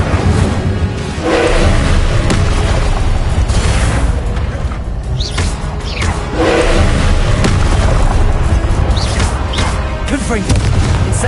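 Confringo, the explosive spell in the video game Hogwarts Legacy, is cast again and again, and each cast lands as a loud, heavy boom over a dense, constant roar of in-game noise.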